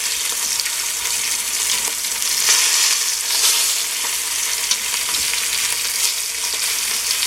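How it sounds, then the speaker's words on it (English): Short rib searing in a hot pot, a loud, steady, close-up sizzle with crackling hiss throughout and faint scraping, no voices. "This searing is good because it's going to make the meat look darker, well cooked"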